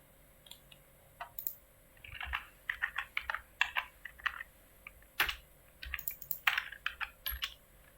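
Fingers typing on a computer keyboard while entering commands in AutoCAD 2022, a scatter of quick, soft key clicks and taps in uneven bursts, close and fairly quiet, with a few sharper presses standing out.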